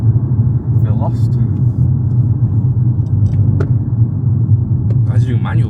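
BMW 118i with the exhaust muffler removed, giving a steady deep droning rumble from inside the car, with people talking over it now and then.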